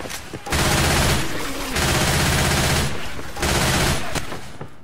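Sustained bursts of automatic gunfire in the zombie shooter Left 4 Dead 2, two long loud volleys separated by a brief pause, with a third burst starting near the end.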